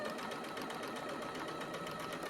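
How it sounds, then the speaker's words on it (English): A sewing machine runs a continuous straight stitch along a quilt edge, a steady fast mechanical whir that is fairly faint and has no talking over it. "just sew a straight stitch right along the edge"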